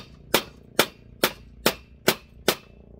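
An old screwdriver is struck like a chisel against a pool heater copper core, six sharp metallic hammer hits landing at an even, steady rhythm, close and clear.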